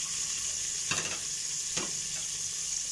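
Onion and garlic frying in a pan until golden brown, a steady close sizzle with two sharp stirring scrapes against the pan.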